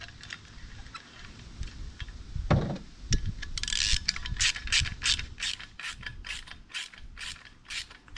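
A socket wrench ratchets a nut onto a climbing stick, a close series of sharp, evenly paced clicks after some handling clatter, heard without talking.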